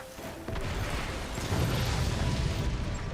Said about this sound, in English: it has a nice bassy explosion of sound effect. I was like, that sounds like a tiny cannon.